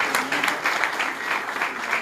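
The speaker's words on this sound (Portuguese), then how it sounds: "aquelas palmas fortes mesmo, gente" Audience applause at an Umbanda lecture event, a dense steady patter of many hands clapping that continues evenly throughout, with no voices above it.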